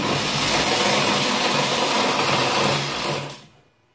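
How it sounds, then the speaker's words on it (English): Motor of a Holbrook C8 lathe straining under load, a loud, rough, continuous whirring drone that holds steady, then winds down and cuts out near the end, no talking. "Come on, motor, you can turn that, surely."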